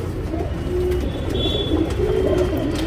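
Pigeons kept as a breeding pair coo nearby in a few soft, low, drawn-out calls against a quiet background, with no talking.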